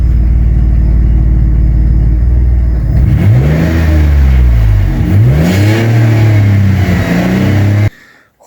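A Gazel fitted with a 2.7-litre petrol V6 starts from a loud steady idle, then revs repeatedly in rising and falling swells close by before cutting off abruptly.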